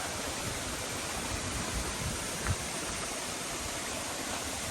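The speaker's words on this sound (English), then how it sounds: "this amazing natural waterfall" Natural waterfall in Albania roars as a steady, dense broadband rush, constant and close throughout with no talk.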